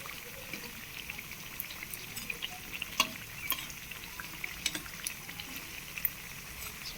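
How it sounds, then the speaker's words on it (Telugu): Battered raw banana bajji deep frying in oil make a quiet, steady bubbling sizzle with scattered crackles and pops, heard close and without any talking. "కొంచెం డీప్ ఫ్రై అవ్వాలి"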